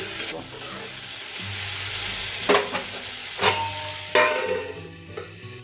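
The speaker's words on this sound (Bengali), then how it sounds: "এখানে আমি আলু ভাজাটা বসিয়ে দিয়েছি" Potatoes fry in a pan with a low, steady sizzle, punctuated by several loud stirring clatters and scrapes of a spatula, close up and without talking.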